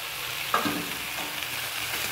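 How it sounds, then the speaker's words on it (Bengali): Garlic spice paste, with the garlic coarsely ground, frying with potato and eggplant in a pan, a steady close sizzle with a brief stir clink near the start, alone without talk. "এবার ভালো করে মশলাটাকে কষে নেব, তরি তরকারিগুলোর সাথে মিশিয়ে নেব"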